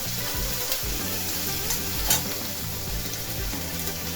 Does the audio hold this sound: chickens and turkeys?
no